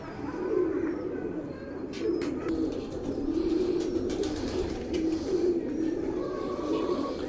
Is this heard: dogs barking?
no